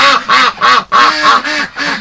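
Ducks penned in winter cold lockdown quack loudly and repeatedly, a close, dense chorus of calls in bursts with no talking.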